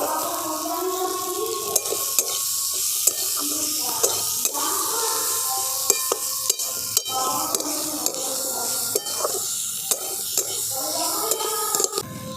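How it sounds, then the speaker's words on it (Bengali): Onion, carrot, capsicum and green chili frying in a pan, a steady close sizzle with a scattering of sharp scraping clicks from the spatula throughout, and no talking. "দেখুন সবজিগুলো ভেজে নিয়েছি"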